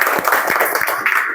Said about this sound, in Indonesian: Berikan tepuk tangan untuk temannya.